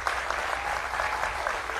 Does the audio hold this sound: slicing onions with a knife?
no